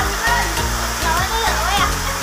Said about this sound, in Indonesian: air terjun di Desa Pongkar ya seperti ini